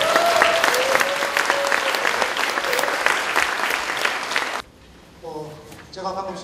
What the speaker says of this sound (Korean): 뜨거운 박수로 환영해 주시기 바랍니다.